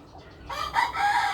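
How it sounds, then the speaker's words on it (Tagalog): Chickens cluck nearby in a short burst, one bird letting out a rising, crow-like call over the flock. "Yan po, mga manok."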